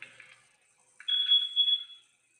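An electronic device emits a thin, high-pitched beep. A faint chirp is followed by one sustained, fairly loud tone lasting about a second, then silence.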